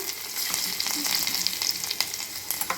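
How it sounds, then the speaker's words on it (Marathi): Mustard seeds, cumin and garlic sizzle and crackle in hot oil for a buttermilk kadhi, a dense close frying hiss with scattered small pops, heard alone. "गरम झालेलं आहे त्यामध्ये टाकून घेऊया अर्धा चमचे मोहरी अर्धा चमचे जिरे आणि लसूण"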